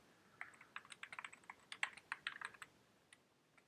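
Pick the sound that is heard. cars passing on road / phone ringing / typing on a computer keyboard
typing on a computer keyboard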